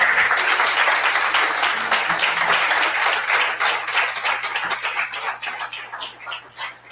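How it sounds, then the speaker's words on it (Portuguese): A church congregation at a Sunday morning family service applauds loudly, dense clapping that starts strong and gradually thins and fades toward the end, with a low steady hum beneath. "Você pode dar um aplauso bem forte a Jesus aí"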